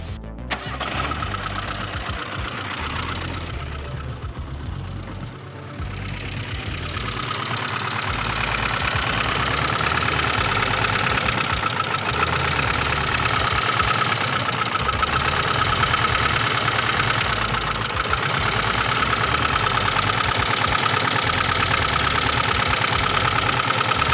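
A 1988 ZAZ Tavria with a bad cylinder cranks and starts, then runs loudly and roughly at close range for a sustained stretch, its steady engine noise carrying an uneven knocking.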